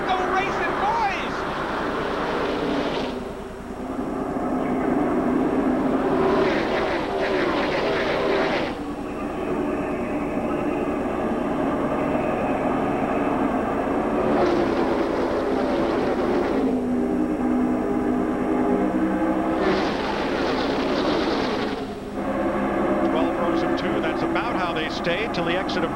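NASCAR stock cars roar away from the race start at Daytona in 2011, a dense, loud engine drone that swells and recedes in waves as the pack passes, with a commentator talking over it.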